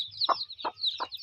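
A golden hen kept among ducklings gives three evenly spaced clucks, close and moderately loud, over a steady high peeping.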